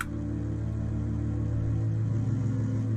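A looped cello sample with no effects, heavy in low end and resonance, sustained bowed tones droning steadily throughout.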